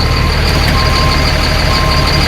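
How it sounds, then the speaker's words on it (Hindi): A straight truck in reverse sounds its backup alarm, a loud, steady electronic beeping over the constant rumble of the idling engine, close by and alone without talk. "रिवर्स के अंदर डाला आपने इसको, ट्रक के रिवर्स के अंदर है और साउंड भी सुन सकते हैं आप"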